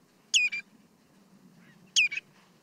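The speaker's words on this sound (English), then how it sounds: "A very common sound on the coast and on the estuaries" Common redshank calling on a coastal estuary: two clear, loud bursts of sharp, high piping notes about a second and a half apart, each a quick cluster of whistles, over quiet background with no voices.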